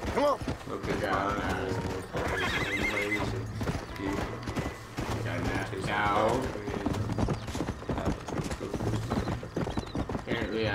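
Horse hooves clip-clopping in the Red Dead Redemption 2 video game, a steady rhythmic trot running through the whole stretch alongside a whinny, game music and ambience, with a person talking over it.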